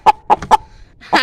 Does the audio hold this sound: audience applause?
no